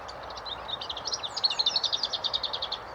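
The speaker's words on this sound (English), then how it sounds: "Straight away we're hearing some unusual bird song." A bird sings a rapid, repeated series of high chirping notes, clear and fairly close, over faint background noise with no talking.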